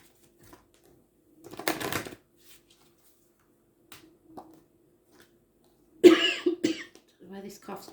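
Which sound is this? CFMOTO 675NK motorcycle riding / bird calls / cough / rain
cough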